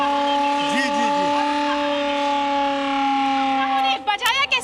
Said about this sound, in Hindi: जब हवाई हमला होता है, तो किस तरीके से सायरन बजाया जाता है।